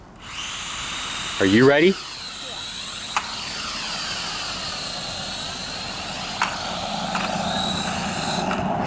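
A UDI U818A quadcopter remote control drone flies with a continuous high whine that swells and shifts steadily, while people talk nearby and a brief burst of sound cuts in early.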